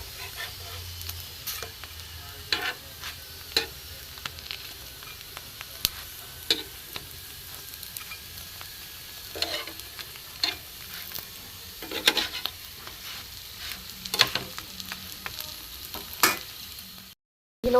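Potato and egg parathas cooking in light oil on a pan, a continuous gentle sizzle punctuated by scattered spatula taps and scrapes, close and moderately quiet, no talk.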